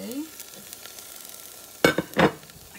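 Tomato and onion hit a hot cooking pot, giving a brief loud sizzle in two quick bursts near the end after a quieter stretch of low kitchen noise.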